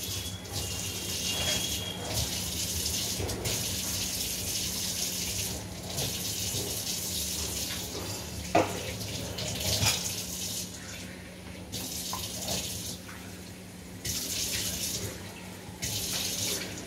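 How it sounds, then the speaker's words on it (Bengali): Tap water running steadily into a kitchen sink while it is scrubbed, a continuous close splash with small clatters and scrapes, no voices. "সিঙ্কটাও মেজে দিই একবারে।"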